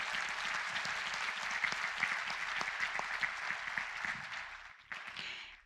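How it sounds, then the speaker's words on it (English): A crowd claps in a steady round of applause for the TSTC team in an auditorium setting, sustained and dense before tapering off near the end. "Can we give them a round of applause, please?"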